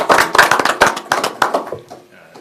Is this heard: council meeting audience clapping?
yes